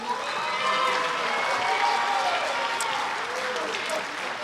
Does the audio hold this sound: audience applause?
yes